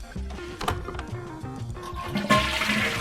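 Toilet flush in the video game Police Chief Simulator, a loud, steady rush of swirling water that swells and grows brighter toward the end, heard alone without talk.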